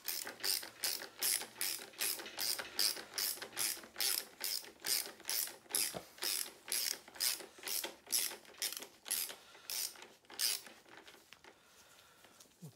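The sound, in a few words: ratchet socket wrench unscrewing Citroën 2CV belt tensioner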